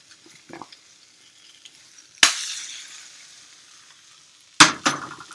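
An omelet cooks in a frying pan: a faint low sizzle is broken by two sharp clattering knocks of the pan or utensil, each followed by a brief surge of louder frying that fades back down.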